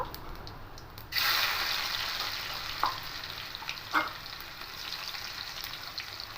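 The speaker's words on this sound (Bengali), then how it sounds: "এবার এই তেলের মধ্যেই ফোড়নে গোটা জিরে দেব রসুন কুচি দেব" Whole cumin seeds and chopped garlic hit hot oil for a dal fry tempering, bursting into a loud, steady sizzle with a couple of sharp crackles and spatula clicks.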